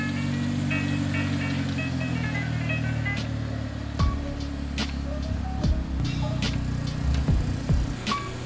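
A Toyota Trueno runs on the road for the first time in six or seven years, its engine droning steadily, then quieter with scattered clicks and knocks over the hum.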